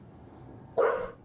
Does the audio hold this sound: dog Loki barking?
yes